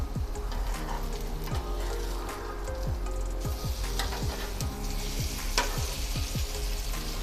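A no-bread breakfast sandwich sizzles steadily in a pan, with a series of soft scrapes and taps as the pieces are flipped one after another, and no talking over the frying.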